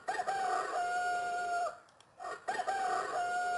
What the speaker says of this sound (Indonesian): muncul suara kokok ayam